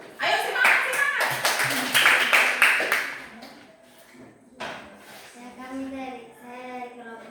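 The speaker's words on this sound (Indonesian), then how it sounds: "Kita berikan aplaus kepada kelompok 3." A classroom of students claps for a student group, a loud burst of applause for the first three seconds that fades as a teacher's voice takes over.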